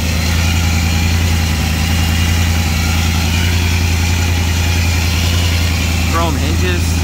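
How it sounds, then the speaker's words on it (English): A supercharged flathead engine in a 1949 Mercury Coupe with a Holley 650 carburetor idles loud and close, a steady rumbling throb with supercharger whine, while someone talks over it. "Man, that supercharger sounds so nice."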